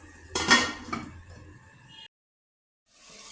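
A lid goes onto a pot of potato and pea curry with one sharp close metallic clank and a softer follow-up rattle, then quiet.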